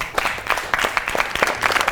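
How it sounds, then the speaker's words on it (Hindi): Studio audience applauding the three guests on a Pakistani TV comedy show, a dense, steady patter of many hands clapping throughout. "तीनों मेहमानों के लिए बहुत सी ताली।"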